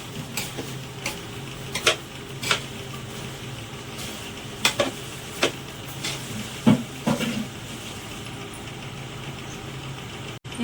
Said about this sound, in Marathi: साखर टाकून परत हलवून घ्यायचा एक जीव करायचा साखर आणि रवा